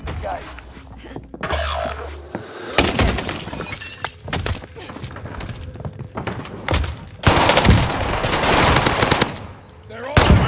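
Bursts of automatic gunfire in a Warzone match with the NZ-41 rifle, loud irregular volleys and single shots with a shattering crack, spread through the clip, partly under voices talking.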